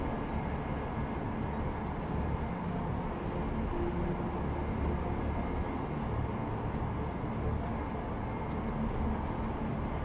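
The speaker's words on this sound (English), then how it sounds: "Considering how long the train ride takes." Train ride in the video game Deus Ex: Mankind Divided, a steady dense rumble and rolling rail noise that holds at an even level from start to finish.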